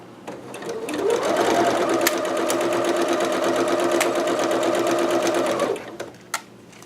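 A home sewing machine backstitches fabric for a McCall's 6701 dress while its bobbin runs low on thread, whirring in one steady, close run for about five seconds with light clicks before and after.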